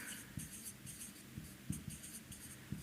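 Chalk or marker writing on a board during a maths lesson, a series of faint, scratchy strokes with short pauses between them.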